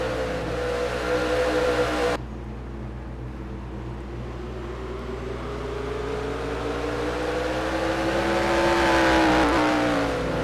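Stock car engines at Martinsville in the NR2003 racing game drone steadily, with a sustained, whining engine tone that dips after a cut, then climbs and rises in pitch near the end.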